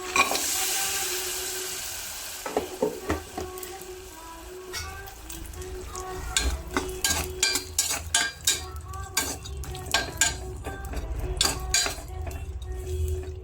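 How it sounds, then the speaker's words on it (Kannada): Raisins and cashews frying in ghee in a pan, stirred with a utensil, giving a steady sizzle under repeated clinks and scrapes of metal against the pan that turn more frequent in the second half. "ದ್ರಾಕ್ಷಿ ಗೋಡಂಬಿನ ಹಾಕ್ಕೊಂಡು ಚೆನ್ನಾಗಿ ತುಪ್ಪದಲ್ಲಿ ಹುರ್ಕೊಳ್ತಾ ಇದ್ದೀನಿ"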